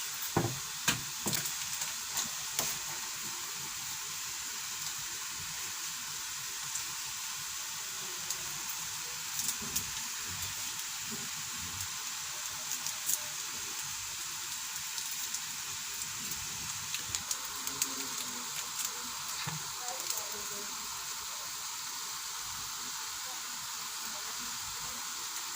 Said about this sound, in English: So I'll add the rest of my ingredients, stir for some few minutes, and then take it off the fire.